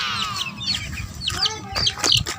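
Chicks peep and chirp in rapid high bursts while hens cluck low underneath, a busy close backyard flock sound running throughout.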